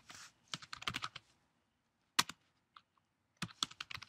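Bursts of rapid keystrokes as Android code is typed on a computer keyboard, close and crisp, separated by short pauses and a single sharp key press in a quiet room.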